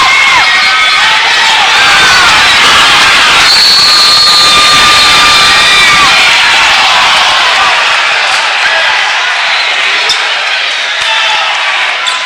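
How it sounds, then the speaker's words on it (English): Loud, spirited crowd noise fills a high school basketball game between Leavenworth and Olathe South, a steady roar of cheering and shouting with whistle-like tones, fading slightly toward the end. "the crowd is becoming very spirited"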